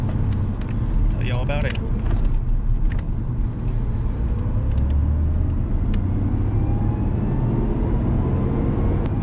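A Honda Fit with a head repair drives through a U-turn, a steady road rumble and engine drone running continuously while someone talks over it near the start.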